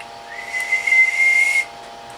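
A rough Maco 300 linear amplifier fitted with 8950 tubes lets out a thin, steady high whistle for just over a second, rising in and cutting off cleanly over a faint electrical hum.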